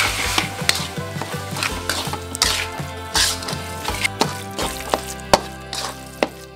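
Mashed tofu mixed with salt, pepper and bouillon powder being stirred in a bowl, with rhythmic scraping and knocking strokes of a utensil, repeated sharp taps and a few louder clacks, close and alone.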